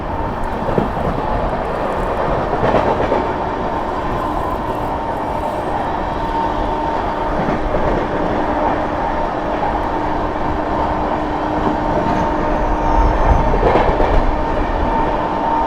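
A Mau–Anand Vihar superfast express train rumbles steadily past the Islampur–New Delhi Magadh Express as it overtakes, a continuous loud roar of wheels and carriages with faint clicks and no talk.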